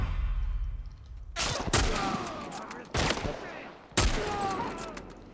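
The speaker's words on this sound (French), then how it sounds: "C'est vrai que c'est quand même violent un fusil comme ça là." Shotgun blasts in The Last of Us Part 1 video game: three loud, sharp booms about a second apart, each followed by a ringing tail and debris clatter.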